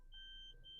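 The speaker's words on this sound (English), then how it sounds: "you can probably hear the parking sensors kicking in as well" Parking sensors on a 2011 Lexus CT 200h beep in reverse, giving two short, faint electronic tones in quick succession with a quiet background.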